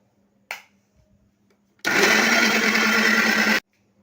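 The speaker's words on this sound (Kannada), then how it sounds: "ಇದನ್ನು ನೈಸಾಗಿ ರುಬ್ಕೊಳ್ಳೋಣ" A mixer grinder whirs loudly for nearly two seconds, grinding soaked rice with water into a fine batter, after a short click and a pause.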